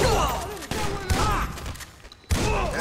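Gunfire in the video game GTA V, several sharp shots in quick bursts with brief gaps, loud and close, mixed with game voices and a player talking.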